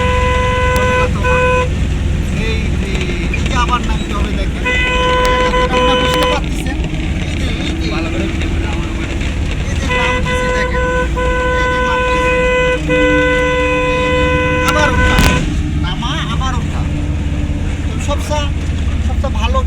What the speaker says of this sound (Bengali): দেখেন বড় একটা গাড়ি আসতেছে